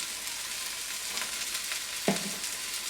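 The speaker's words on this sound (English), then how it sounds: "You still got a nice sizzle going on." Leeks sizzle steadily in a frying pan, a continuous close, moderate hiss with a brief louder crackle and stir partway through.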